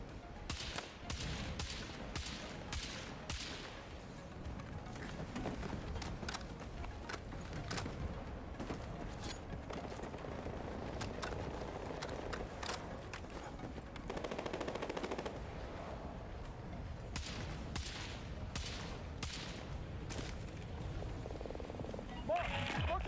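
Machine gun fire in Battlefield 6, repeated sharp bursts of rapid shots with short gaps between them, some near and loud, others further off, mixed with battle noise over about twenty seconds.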